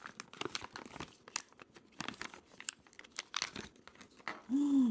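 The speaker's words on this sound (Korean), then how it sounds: "안에 토니들이 다치지 않게 잘 뜯어볼게요" Toniebox 2 packaging torn open by hand, with dense close crinkling, ripping and crackling of paper and plastic in quick bursts, ending in a brief louder rustle.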